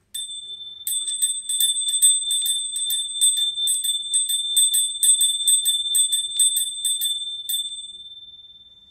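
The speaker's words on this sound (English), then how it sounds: "Let's ring the bell." A small bell rung before a chakra chant gives rapid repeated clear metallic strikes for several seconds, then a ringing tone that fades out, with no voices.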